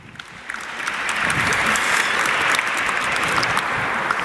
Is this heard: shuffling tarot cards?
no